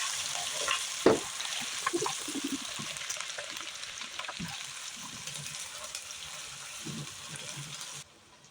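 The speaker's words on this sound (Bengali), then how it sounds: "বাটা পেঁয়াজটা আমি দিয়ে দিচ্ছি" Onion paste hits hot oil in a pan and sizzles in a steady, close hiss, with occasional scraping and stirring knocks over the fry before it cuts off abruptly.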